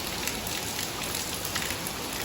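A heavy monsoon downpour pours down in a constant, loud wash of rain striking surfaces, dense and unbroken throughout, with no one talking.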